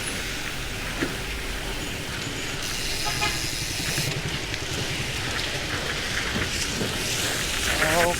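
Steady rain falls on a road in the Cavinti area of the Philippines, a dense hiss with passing car noise and a brief horn toot in the background.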